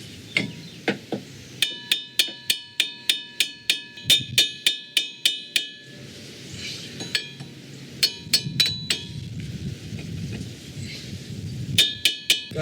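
A hammer strikes a car axle to drive it out of the wheel hub on a 2000–2006 Nissan Sentra, sharp metallic blows landing in quick rhythmic bursts with short pauses between series, close and loud.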